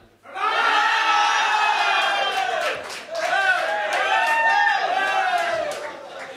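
A large crowd at a Donegal–Fermanagh match event roars a loud, sustained shouted answer in unison, swelling after a brief dip, voices blending into a thick wall of cheering.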